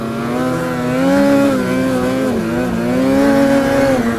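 A 2022 Polaris Patriot Boost turbocharged snowmobile engine howls loud and close, its pitch rising, dipping and rising again as it accelerates through continuous revs with no talking.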